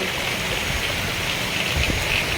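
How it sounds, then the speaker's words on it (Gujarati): Heavy, wind-driven rain pours over Kodinar town as a dense, steady roar that stays loud and unbroken from start to finish, with no voices. "પવન સાથે વરસાદ હોય, છત્રીને કાબૂ કરવામાં પણ"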